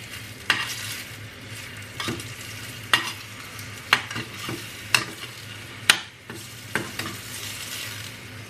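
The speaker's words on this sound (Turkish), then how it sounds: "Üstüne şöyle bir çay kaşığı kadar da toz kırmızı biber ilave ettim. Karıştırıyorum." A spoon stirs a red pepper sauce frying in a pan, giving a steady sizzle punctuated by regular sharp scrapes and taps roughly once a second, close up with no talk.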